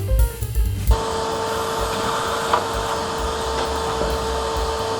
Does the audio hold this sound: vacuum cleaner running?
yes